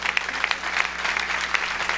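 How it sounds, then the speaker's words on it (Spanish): Steady applause from a church congregation during a worship service, dense clapping filling the room at a moderate level with no speech over it. "dale un aplauso al Señor Jesucristo."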